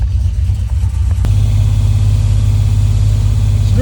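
A 2006 Chevy Silverado engine runs on a dyno during an RPM step test, loud and close, idling briefly before stepping up to a steady, higher, held engine drone.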